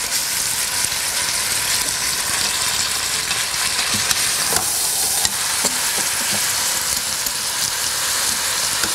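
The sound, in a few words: onions and beef sauteing in a pan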